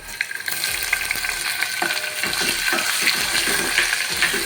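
Onions frying in a pan for a South Indian curd curry, a dense continuous sizzle with crackling spatters and light stirring, close and steady with no voices.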